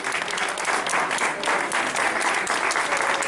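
Steady crowd applause at an outdoor village festival, continuous rhythmic clapping from a sizeable audience throughout, with no talk over it.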